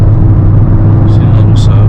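A Dodge Scat Pack Widebody idles with a deep, loud, steady engine rumble close by, a low throbbing drone filling the whole moment while short bursts of higher noise break in near the end.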